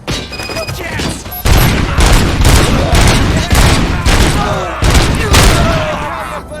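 Loud gunfire in the video game Robocop: Rogue City, repeated bursts and booming shots filling the scene, with shouting voices over the shooting.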